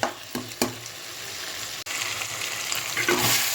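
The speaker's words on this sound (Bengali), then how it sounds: "এইবারে এটা ঢাকা দিয়ে লো হিটে আরও চার থেকে পাঁচ মিনিট আমি কষিয়ে নেব" Fish masala with fried potato sizzles and crackles in a covered pan on low heat, a steady close frying hiss with a few sharp stirring clicks early on and no voices.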